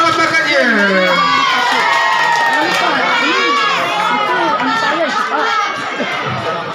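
A school class-meeting quiz audience of children cheering and shouting loudly alongside clapping, a dense, excited crowd din with many overlapping young voices for the whole stretch.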